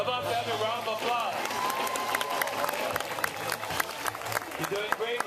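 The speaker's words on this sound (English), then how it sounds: "Come on, family, round of applause." An audience at a show on Oahu, Hawaii claps in a scattered, sustained round of applause while a host speaks over it in the foreground.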